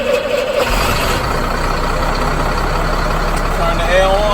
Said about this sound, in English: turn the air on, turn the truck on to build up the air pressure